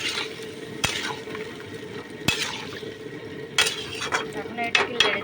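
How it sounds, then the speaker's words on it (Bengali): Young jackfruit curry is stirred in a pan: sharp spatula knocks against the metal land at intervals over a low, wet bubbling, with scraping strokes growing busier toward the end. "এখন এটাকে নেড়ে চেড়ে ঢেকে দেবো।"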